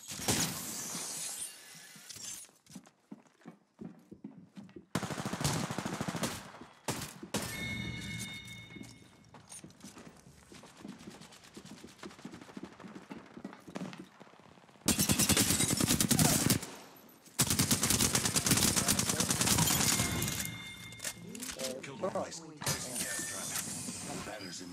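Bursts of automatic gunfire in the Apex Legends battle royale game, from intermittent shots to long loud sustained volleys, mixed with footsteps, mechanical clatter and game sound effects.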